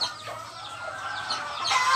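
Farmyard hens cluck and chatter at feeding time, a busy layered chorus of short calls at close range with brighter, louder bursts toward the end.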